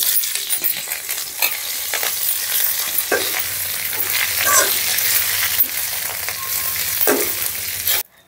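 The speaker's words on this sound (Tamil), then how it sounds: "இப்போ அதே கடையில் கொஞ்சமாக எண்ணெய் விட்டு கருவேப்பிலையும் வறுத்து எடுத்துக்கலாம்." Curry leaves frying in a little oil in a pan, a steady close sizzle with occasional stirring scrapes and light clinks throughout, no talking.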